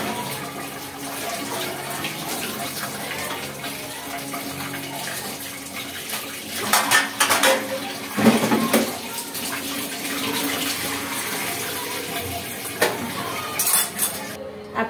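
Pots and dishes are washed under running water, which splashes and gushes while cutlery and pans clink and knock nearby, with louder bursts of rinsing at intervals.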